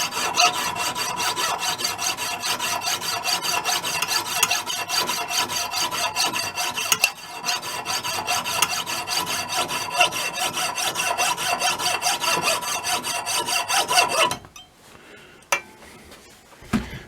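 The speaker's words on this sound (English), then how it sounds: "Takes a bit of time cutting through silver steel with one of these little saws." A small hand saw cuts through silver steel rod in quick, even back-and-forth strokes, loud and close, with a brief pause midway. The sawing stops near the end, leaving a few faint clinks.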